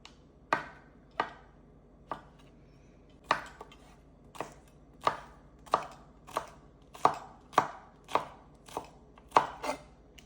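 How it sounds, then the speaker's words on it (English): A knife slices mushroom stems thinly on a cutting board, about fourteen crisp, close chops at a steady, slightly uneven pace with brief quiet gaps between strokes. "So I'm going to show you how to cut the stem. Just slice them thinly."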